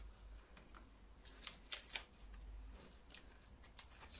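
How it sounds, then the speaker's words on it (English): Bottom leaves being pulled back and snapped off a globe artichoke, a series of short crisp tearing and rustling snaps, close and fairly quiet, spaced irregularly with brief pauses between pulls. "Take these bottom leaves off first. Just pulling these ones back."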